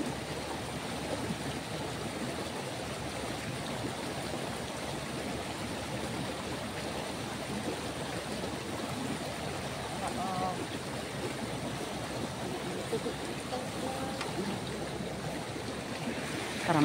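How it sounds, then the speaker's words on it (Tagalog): Strong stream water rushes steadily, a dense, continuous roar that holds at an even level from start to finish. "Malakas ang tubig."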